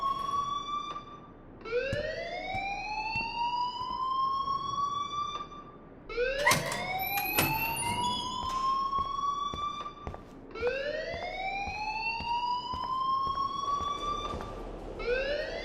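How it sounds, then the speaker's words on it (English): Wailing alarm siren from the Life is Strange video game, repeating rising sweeps that climb and hold, three long cycles sounding loud and continuous throughout. "please turn off that alarm since that's your job"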